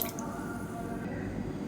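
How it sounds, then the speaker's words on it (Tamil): Water poured from a vessel into a pressure cooker during cooking, a steady liquid gurgle and splash that fades slightly toward the end. "இப்போ இன்னொரு சொம்பு தண்ணி ஊற்றிக்கலாம்."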